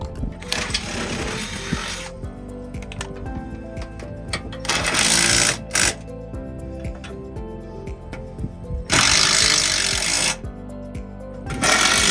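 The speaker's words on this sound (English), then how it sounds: "So I'm gonna pre-drill all the holes and then reattach it." A power drill runs in several short bursts of high-pitched whirring, pre-drilling holes for RV scissor jack stabilizers, separated by pauses and clatter, close by.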